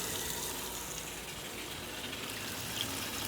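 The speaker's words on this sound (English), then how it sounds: "we have both machines filling" Steady rushing water pours as two washing machines fill, a continuous broadband hiss with no breaks, moderately loud and close.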